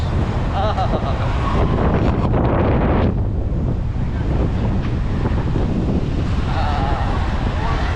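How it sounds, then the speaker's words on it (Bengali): Open-air wind sweeps across Konglak hill in Sajek, a steady, loud roar that buffets the microphone for the whole stretch with no break. "প্রাকৃতিক পরিবেশ বাতাসটা লাগাচ্ছে শরীরে মানে একদম ফ্রেশ পাহাড়ি বাতাস"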